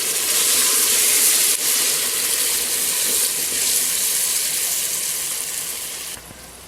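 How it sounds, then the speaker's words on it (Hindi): Hot water pours into a mutton karahi pot over fried meat, a loud broad rushing hiss with sizzling that holds steady for several seconds, then cuts off near the end, close and alone. "अभी इसके अंदर आप आधा किलो गर्म पानी जो है ना वो डाल दें।"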